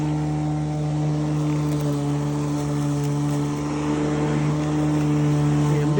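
A SunJoe MJ401C-XR electric lawn mower runs through thick grass with a loud, steady motor whine that holds constant and close.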